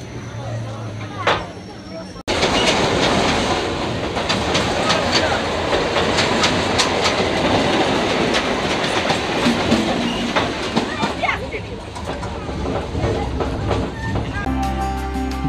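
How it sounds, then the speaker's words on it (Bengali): A Kolkata local train runs from Dum Dum toward Dakshineswar, with a loud, steady rumble and rhythmic clickety-clack of wheels on the rails heard from on board, while a voice talks over it. "দমদম স্টেশন ছেড়ে ট্রেন এখন দক্ষিণেশ্বরের দিকে যাচ্ছে"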